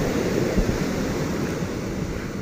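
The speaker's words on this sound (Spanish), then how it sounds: "el oleaje está bonito también" Ocean surf rolling in at Playa Carabalí, a quiet beach in Acapulco, a steady broadband wash of breaking waves with a slight swell near the middle, heard close and continuous with no voices.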